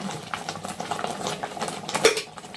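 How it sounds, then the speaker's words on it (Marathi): A spoon stirs spices and salt for a lemon pickle in a pan, quick close scraping and clinking strokes in a steady rhythm, with no voices. "आणि सगळं मिक्स करून घ्यायचं"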